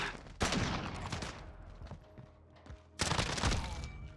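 Two loud bursts of rapid video game gunfire in a first-person shooter, a short exchange near the start and another about two and a half seconds later, with quieter game sounds between.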